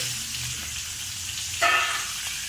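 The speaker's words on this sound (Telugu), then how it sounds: "ఇప్పుడు మనం వీటిని ఫ్రై చేస్తూ ఉండాలి అటు ఇటు." Eggs frying in oil in a pan over low heat for egg biryani, giving a soft continuous sizzle throughout with a brief brighter crackle partway through, no voices.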